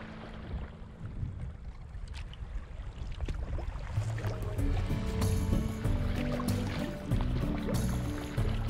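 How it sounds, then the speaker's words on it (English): Sailboat crossing open sea toward an island under an easterly wind, a steady broadband wash of water and wind noise with small splashes and knocks, growing a little louder midway, no voices. "the wind swung to the east, and we got to sail the rest of the way to Long Island"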